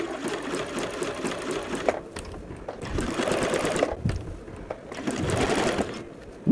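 Sewing machine stitching a lace overlay onto lingerie around curved edges, running in steady bursts of rapid whirring separated by short pauses, close and alone.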